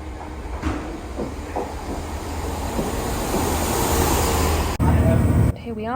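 A passenger train leaving Westbury Station for Southampton rumbles with a steady roaring hiss, a few short thumps early on and an abrupt shift near the end.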